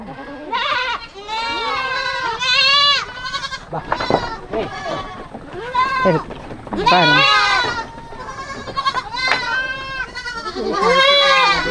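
Several goats and their kids bleat loudly and repeatedly at feeding time on a farm, overlapping wavering cries near the microphone, with people talking among them.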